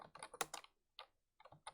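Someone types a short command on a computer keyboard, a quick close run of crisp key clicks followed by a pause and a few more taps.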